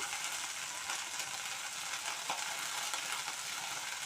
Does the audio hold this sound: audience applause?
no